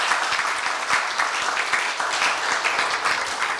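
Audience at a Korea University staff retirement ceremony gives sustained applause, a thick, steady roar of many clapping hands heard clearly with no talk over it.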